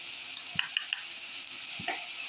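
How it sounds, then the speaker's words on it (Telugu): Chili powder going into a sizzling fish curry in a pan, a steady soft frying hiss with a few light taps and stirring scrapes, close and alone. "ఇదిగోండి, కారం వేసేస్తున్నాను."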